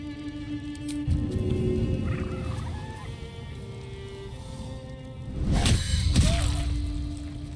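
A summoned bird in the video game Baldur's Gate III gives gobbling, fowl-like calls over a low whooshing game soundscape, with a louder burst of calls and swishes toward the end.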